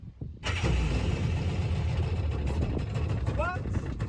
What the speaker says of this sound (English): I just want to see if that engine turns